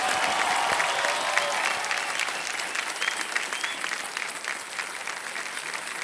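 A studio audience on the KBC game show breaks into sustained, loud applause that carries on evenly for several seconds, with no talking over it.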